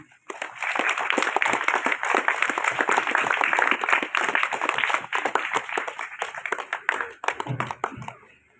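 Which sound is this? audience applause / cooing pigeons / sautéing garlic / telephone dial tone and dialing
audience applause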